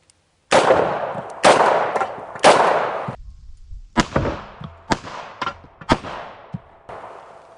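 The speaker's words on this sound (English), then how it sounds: "So I'm going to start out with the 246 grain Winchester round nose lead hollow" .44 Special revolver firing 246 grain Winchester round nose lead hollow base ammunition outdoors: three loud, booming shots with long ringing decay, followed by several quieter, sharper distant reports.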